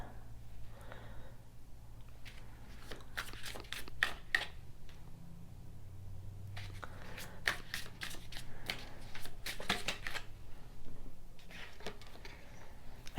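Tarot cards being shuffled, their repeated riffling and flicking bursts running close and steady throughout, with a low hum underneath and no talking.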